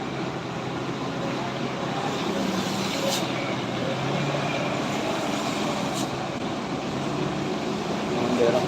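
A trailer truck passes on the road, a broad rumbling roar that holds steady at moderate distance and swells slightly near the end, with ambient traffic noise around it.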